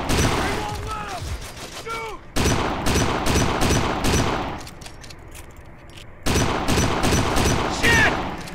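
Gunfire in the Kane and Lynch 2 video game: dense, loud bursts of rapid shots fill most of the stretch, with a brief lull before the firing resumes. Voices call out over the shooting.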